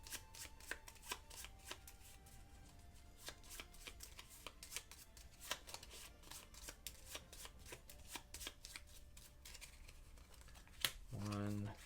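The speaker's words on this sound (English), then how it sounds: "So we need to shuffle." A deck of playing cards is shuffled during a cooperative board game, with quick repeated riffling and flicking, close and soft, while brief voice sounds break in near the end.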